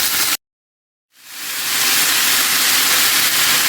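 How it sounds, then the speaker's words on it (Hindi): Small cubes of boneless chicken fry in a pan, giving a loud, steady sizzle that cuts out for a moment, then rises again into a strong, continuous hiss. "चिकन को फ्राई करूंगी कलर चेंज होने तक।"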